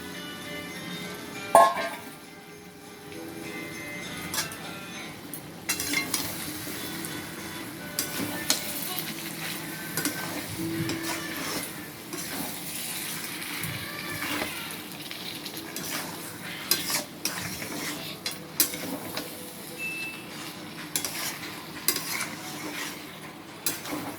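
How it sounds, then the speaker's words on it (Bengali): Fried onion and capsicum stirred into a simmering chicken curry make a low sizzle with occasional clinks and scrapes of a utensil against the pan, steady throughout. "এবারে ঢেলে নেবো ভেজে রেখেছিলাম যে পেঁয়াজ আর ক্যাপসিকামটা, ওর মধ্যে দিয়ে দেবো"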